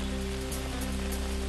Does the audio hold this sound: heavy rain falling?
yes